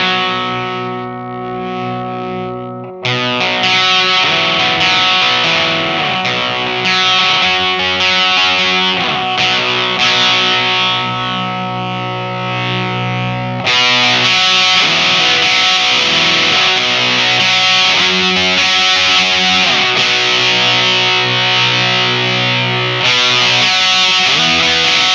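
Electric guitar played through a NativeAudio Kiaayo overdrive pedal with the gain knob rolled up for more breakup, sustained distorted chords and riffs that grow grittier over the passage, loud and upfront with no talking.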